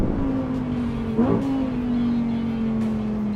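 A Lamborghini Huracan Tecnica's V10 pulls on a racetrack, a steady droning engine tone heard from inside, with a brief shift-like blip partway through and otherwise even, continuous power.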